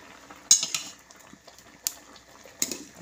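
Food is stirred and turned in a covered pot, with sharp metallic clanks of a utensil against the pot at several moments, separated by quiet stretches with faint bubbling.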